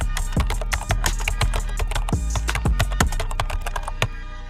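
Rapid, irregular clacking of keys on a computer keyboard as a short note is typed, close and crisp with quick bursts of keystrokes and no talking.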